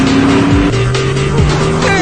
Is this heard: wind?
no